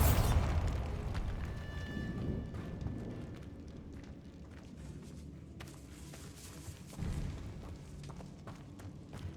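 Bombarda explosion spell cast in Hogwarts Legacy: a booming blast at the start rolls off into a long fading rumble, followed by quieter scattered clicks, footsteps and a second smaller burst later on.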